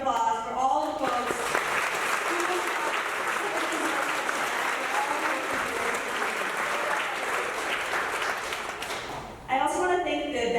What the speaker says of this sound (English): one more round of applause for all the folks